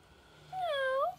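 A hungry cat gives a single clear, drawn-out meow, rising then falling, close and alone against a quiet room.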